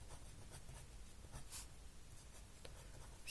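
Pen writing on paper while working a class 10 math problem, soft scratchy strokes in short bursts with small gaps, faint and close against a quiet background.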